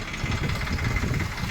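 A farm tractor engine runs steadily at idle in a sugarcane field, a low, even rumble holding at moderate level throughout with no voices over it.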